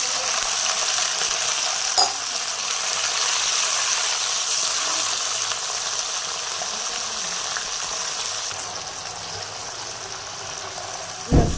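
Browned onions frying in a pot for pulao give a steady, close sizzle and bubbling with occasional stirring clinks, and no one speaks.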